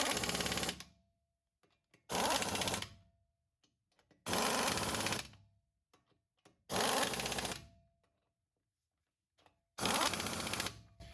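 An impact gun set to its lowest torque setting snugs the wheel lug nuts on a 2004 Chevy Trailblazer. It fires five sharp, loud rattling bursts of under a second each, with short silent gaps between them.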